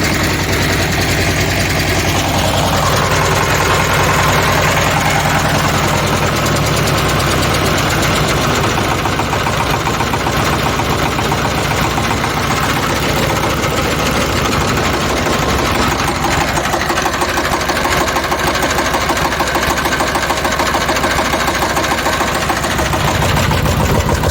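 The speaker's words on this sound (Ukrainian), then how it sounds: "І трактор пре на рівному слідові." A mini tractor converted into a bulldozer, loaded with added ballast weights, runs close and loud while pushing soil on flat ground, its engine chugging steadily throughout with a rough knocking tone.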